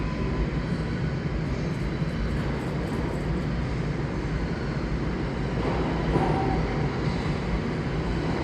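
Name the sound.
subway train coming into the station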